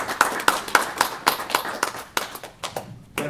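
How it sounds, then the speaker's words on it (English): At a Startup Grind Montreal event, a small audience claps in a sparse, rhythmic pattern of distinct hand claps that thin out and fade toward the end. "give a round of applause to our grinder here today, Ash."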